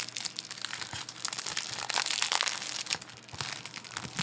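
Plastic wrap on a physical media case crinkles and tears loudly up close as it is peeled open, with dense crackling bursts for several seconds.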